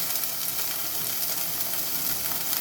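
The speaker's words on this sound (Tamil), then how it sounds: "நல்லா வதக்கிக்கலாம்" Turkey berries (sundakkai) sauté in a pan for a kootu, giving a steady close sizzle and frying crackle with faint stirring scrapes and no voices.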